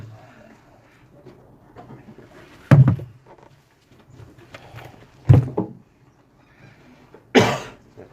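Three loud, sharp bursts ring out a couple of seconds apart against a quiet room with faint background murmur, like coughs picked up close to a microphone.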